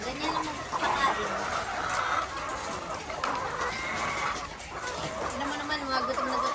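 Hungry RTL chickens clucking and calling steadily while grain feed is scattered for them, close and lively, with someone talking over the flock.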